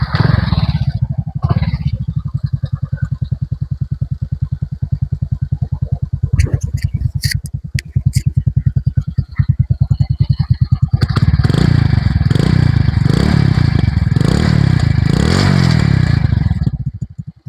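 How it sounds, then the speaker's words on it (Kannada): A Lord Splendor motorcycle's exhaust gives a steady, loud, thumping single-cylinder beat close by, with brief clatter partway through, then repeated revving that swells and falls toward the end. "ಬನ್ನಿ ಈಗ ಈ ಗಾಡಿ ಎಕ್ಸಾಸ್ಟ್ ನೋಟ್ ಹೇಗಿದೆ ಅಂತ ತೋರಿಸ್ತೀನಿ."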